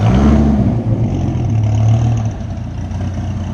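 A 1995 Dodge Viper RT/10 engine runs nearby with a loud, low burbling rumble that swells briefly, then settles to a slightly quieter idle.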